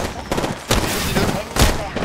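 Video game gunfire comes in two or three short, loud bursts of rapid shots over a steady background of game noise.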